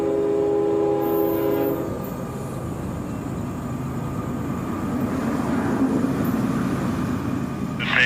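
A train rumbles past close by in Dade City, a horn sounding briefly at the start before the steady roar of the cars takes over.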